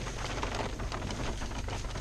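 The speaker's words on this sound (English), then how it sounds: "And as you can hear, it's raining out," Steady rain falling outdoors, a dense, even broadband patter that holds at a constant level throughout with no voices.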